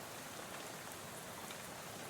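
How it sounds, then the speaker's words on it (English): Steady rain spatters against a bus window in the video game Shadows Over Loathing, a continuous soft hiss of drops at an even level with no voices. "soon you're dozing off to the sound of rain spattering on the window beside you"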